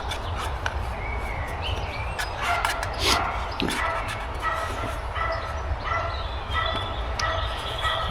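A small dog barks and yips repeatedly at a distance over steady low rumble and background noise, the yaps coming in short irregular bursts.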